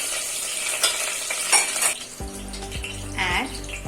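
Cinnamon sticks and cardamom sizzle in hot oil in a pot for a mutton stew. Close frying crackle comes with scraping stirs and clinks of a utensil against the pan, and a low humming drone joins partway through.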